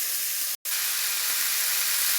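Tomatoes hit hot oil with fried onion and garlic, giving a loud, steady broadband sizzle that continues throughout after a brief moment of silence.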